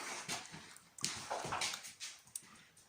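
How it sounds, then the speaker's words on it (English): A dog nipping at a hand in an apartment under renovation gives quiet, soft whimpers and snuffles in a short, faint close-up stretch. "I've got a dog biting my hand"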